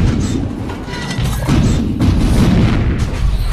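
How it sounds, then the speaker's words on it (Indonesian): More modern French cannons fire in battle against Qing imperial forces: deep, dense booming rumble that surges in heavy blasts, loud and sustained, with no voices. "Hal ini langsung dibalas meriam Perancis yang lebih modern."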